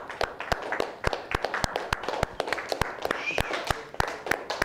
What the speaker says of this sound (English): Everybody, let's clap it up.